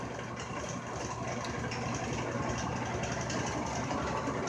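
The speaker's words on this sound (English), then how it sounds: "the whole lathe is wobbling." Lathe running and wobbling on its stand in a shop, a loud steady mechanical rumble with rattling that continues throughout without pause.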